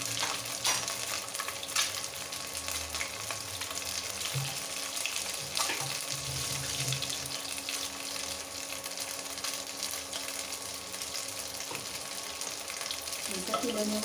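A duck egg fries in a pan in a home kitchen, a steady close sizzle and crackle of hot oil running throughout, with faint clinks of a utensil near the end.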